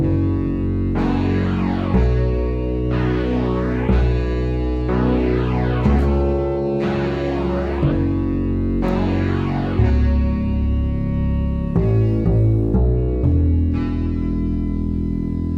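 Juno 6 synthesizer chords shaped by EQ, reverb and phaser, a steady sustained progression with chord changes roughly every two seconds, washy and full, alone with no voices.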